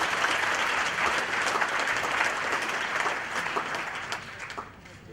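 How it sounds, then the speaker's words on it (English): Audience applause at a graduation ceremony, a steady dense wash of many hands clapping throughout that tapers slightly near the end, with no talk over it. "I think they deserve a round of applause for having done that."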